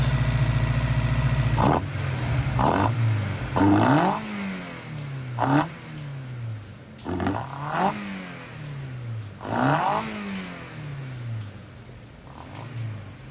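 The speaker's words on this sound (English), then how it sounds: "park it on the side, have my colleague videotape the ITB while I rev it" A Honda K20A Type R engine fitted with individual throttle bodies revs repeatedly, several sharp blips rising and falling over a low idle with strong induction roar, close and loud with no talking.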